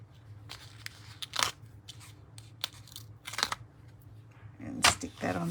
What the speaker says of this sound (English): Peel the backs off those